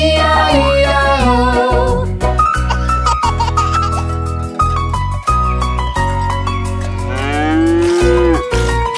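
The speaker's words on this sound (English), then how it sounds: "With a moo-moo here and a moo-moo there." A cartoon cow moos repeatedly in the nursery rhyme Old MacDonald Had a Farm, loud, clear calls set over bouncy children's music.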